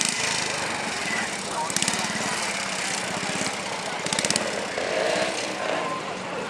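Bantam motorcycle engine running at a Founders Day event, a buzzing drone with pulsing rises as it passes by at moderate distance, mixed with crowd noise and an announcer's voice.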